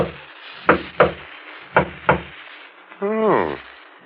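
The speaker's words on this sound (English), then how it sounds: "There's a discreet knock on the door at the front of the shop." A discreet knock on the front door of a shop in a period private-eye radio drama: two soft pairs of raps, close and clear, followed by a short spoken exclamation.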